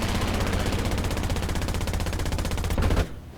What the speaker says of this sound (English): My gunners are working overtime to try and get shots on the DB7.